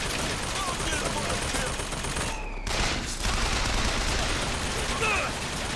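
Sustained gunfire in the Bioshock Infinite video game, a dense, steady stream of rapid shots with a brief sharp cut partway through before the firing resumes.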